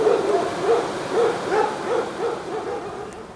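A queen bee's fanning wings give a steady, close hum that pulses rhythmically in soft repeating swells throughout, with no talking.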